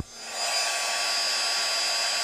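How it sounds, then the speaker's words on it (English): A heat gun blows a steady, loud, airy whoosh with a faint high whine while heating embossing powder on a card, running alone without talk. "taking my heat gun, I want to heat it up just a little before I put it on there"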